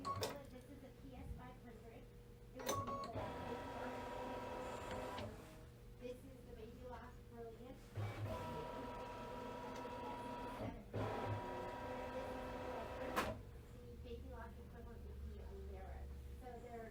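A Brother Luminaire embroidery machine whirs and clicks as it moves to scan for positioning stickers, with short mechanical runs, pauses and sharp clunks, faint and close, with occasional talk in the background.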